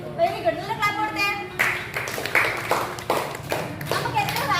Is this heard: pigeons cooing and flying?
no